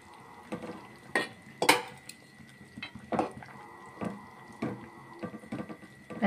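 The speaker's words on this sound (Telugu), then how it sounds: "తర్వాత పెసర పునుగులు ఉన్నాయి కదండి, అవి కూడా వేసుకుందాం." Mung dal fritters dropped into a tamarind okra stew and stirred, with a run of clinking and scraping spoon strikes against a metal pot, moderately loud and evenly spaced, and no talking.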